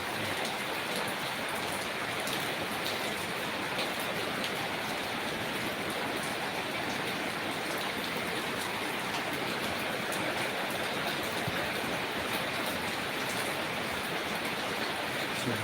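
Heavy rain from an approaching typhoon pours steadily in Thailand, a dense, even hiss of drops drumming on surfaces that continues unbroken throughout, with no talking.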